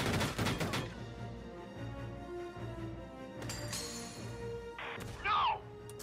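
Enemy gunfire in a war video game: a rapid cluster of sharp shots at the start, then scattered impacts, a bright crash and a ringing burst near the end, heard over a low rumbling game background.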